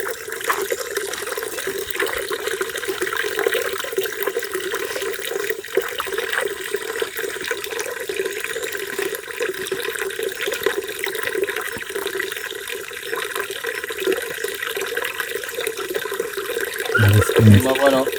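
Water flowing steadily inside a wide cave, a constant rushing wash that continues throughout, with voices speaking near the end.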